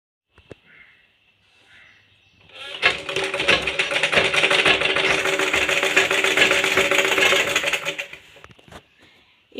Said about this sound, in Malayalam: ഇനി നമുക്ക് ഷോൾഡർ സ്റ്റിച്ച് ചെയ്യാം